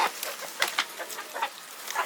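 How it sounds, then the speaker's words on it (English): A new chicken from a poultry show, kept in a small backyard coop, makes a run of short, quick clucks in uneven bursts, close by and fairly soft. "That is one of my new chickens from the poultry show."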